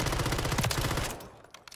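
Rapid automatic gunfire rattles in a gunfight in the video game Call of Duty Modern Warfare III, a loud, fast burst of shots that cuts off after about a second, followed by a couple of quieter clicks.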